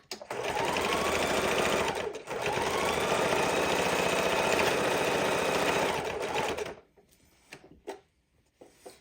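A sewing machine stitches steadily around the edge of a fidget quilt in a long, close, even run, pauses briefly, resumes, then stops, leaving a few faint handling clicks.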